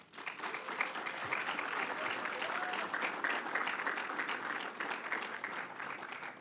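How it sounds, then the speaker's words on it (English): Audience at a transit operations graduation and promotion ceremony applauding the graduates, a steady, even wash of many hands clapping throughout, heard from a distance in a large room. "I'd like for you to give them a round of applause"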